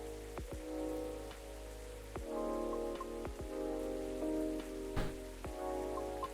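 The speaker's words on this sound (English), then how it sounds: "It's raining in the game and also raining in real life." Rain falls steadily on a surface, with soft irregular drops and taps over a low continuous patter. It sits beneath a gentle sustained tonal background.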